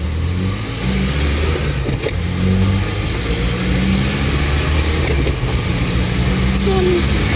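A Bedford Bambi van engine runs steadily nearby with a low rumbling drone, the sound constant throughout with slight fluctuations.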